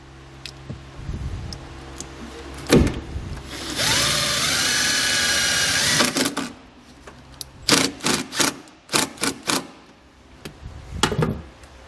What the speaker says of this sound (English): The way I'm going to do that is by using the provided self-tapping screw.